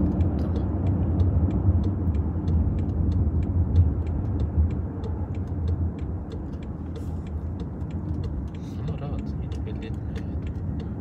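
BMW 760 saloon driving fast on asphalt, heard from inside: a constant low engine and tyre rumble with faint ticking clicks, while people talk over it throughout.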